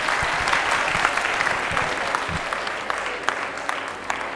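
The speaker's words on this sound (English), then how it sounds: "Just give him a clap, perk." An audience claps for a student at a talk, a dense, steady patter of many hands holding for several seconds with a few sharper individual claps popping out near the front.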